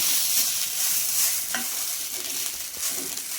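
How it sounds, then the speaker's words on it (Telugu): Coconut rice with salt fries in a hot pan for a Navratri festival dish, giving a steady, close sizzle while a spoon scrapes and stirs it in a few soft, irregular strokes. "బాగా కొబ్బరి అన్నం సాల్ట్ పట్టుకునేంత వరకు బాగా వేయించుకున్నాం"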